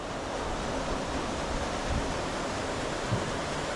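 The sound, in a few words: water flowing through a mill race beside the River Churnet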